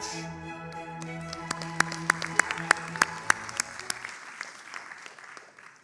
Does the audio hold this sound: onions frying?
no